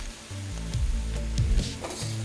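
Small pieces of chicken and vegetables stir-fried in a pan over medium flame for gravy chicken chow mein, a steady sizzle broken by a few scraping strokes of the spatula, close and alone.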